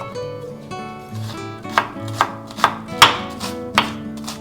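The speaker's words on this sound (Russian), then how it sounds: "Лук я нарезаю мелко." A kitchen knife finely chopping an onion on a cutting board for soup, a run of about six sharp, evenly spaced chops close by, with a soft low hum in the background and no talk.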